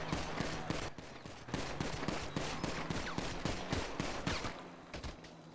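Rapid gunfire in a GTA roleplay police academy training scenario, with dozens of sharp, closely spaced shots cracking in quick bursts, loud and continuous from start to finish with almost no talk.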